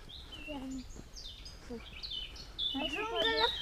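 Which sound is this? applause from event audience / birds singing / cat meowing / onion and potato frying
birds singing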